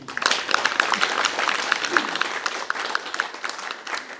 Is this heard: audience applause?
yes